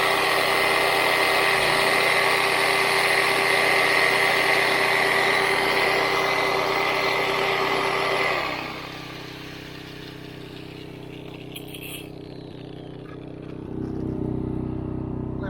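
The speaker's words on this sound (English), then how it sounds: "angle grinder and a power saw. Let's try them both on at the same time." A MaXpeedingrods MXR 3300W generator runs steadily and loudly while powering an angle grinder and a power saw together, a dense whining roar that drops sharply to a quieter engine hum partway through before swelling again near the end.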